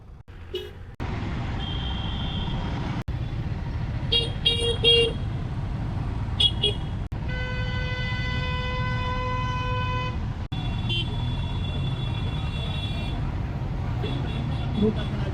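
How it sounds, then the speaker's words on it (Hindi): Car and truck horns honk repeatedly on a busy road in Bhutan, several short toots and one long sustained blast over steady traffic rumble, with a person talking at points. "क्यों बजाते हैं हॉर्न भाई,"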